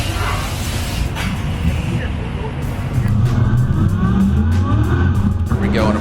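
A turbocharged LS V8-swapped Subaru BRZ drift car runs through turn 14 at the Formula Drift round at Irwindale. Its steady, rumbling engine drone carries on under a commentator's voice.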